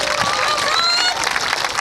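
Crowd applause and cheering at a Highland Games tractor pull in the Peak District, a loud continuous wash of clapping close by, with whistles and voices mixed in.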